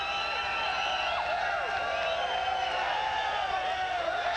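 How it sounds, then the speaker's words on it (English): Arena crowd at the Casper Event Center, a rodeo venue in Casper, Wyoming, before a 1995 UFC event: a dense, steady roar of many voices with scattered whistles and shouts, loud and continuous throughout. "So the crowd is continuing to rev up at the CASPER Event Center"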